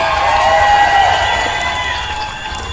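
A large crowd at a motorcycle club unification rally cheers and shouts loudly and continuously, a dense roar of many voices.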